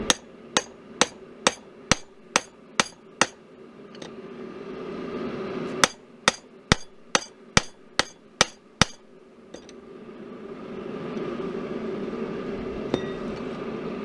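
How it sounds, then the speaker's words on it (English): A hammer strikes the back of a chisel set on hot stock at the anvil, ringing metallic blows in two quick, evenly spaced runs of about eight and ten hits, followed by a low roar of background noise. "You place the chisel right on top of the piece and strike the back of the chisel."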